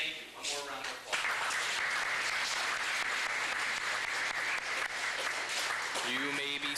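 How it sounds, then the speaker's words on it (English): A banquet hall audience at a 2008 Cub Scout Pack 404 Blue and Gold Banquet in Ste. Genevieve, Missouri breaks into loud, sustained applause, with a voice briefly heard before the clapping and again as it fades. "One more round of applause."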